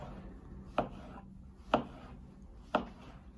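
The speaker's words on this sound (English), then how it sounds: "I'm resting the knife against the nail there, pushing the knife forward and drawing it back." A kitchen knife pushed forward and drawn back through food on a cutting board during basic food preparation, giving three crisp, evenly spaced strokes about a second apart, close up and alone.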